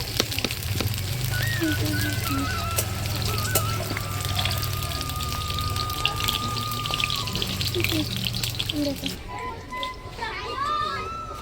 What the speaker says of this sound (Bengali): আমি প্লেন সাদা তেলে সর্ষের তেলের মধ্যে ভাজছি